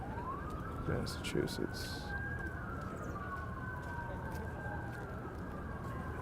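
A police siren wails steadily in a news broadcast, its pitch rising and falling over a noisy background, with someone speaking briefly underneath.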